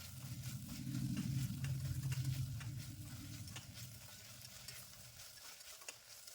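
Curry leaves frying with ginger garlic paste in a pan for a white vegetable kurma, a close, steady sizzle with stirring that swells early and then settles, with no talk.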